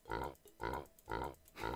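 Pig grunts from the video game Terraria, four loud, low grunting calls in a steady rhythm, each about half a second long with short gaps between them, heard alone with no talking.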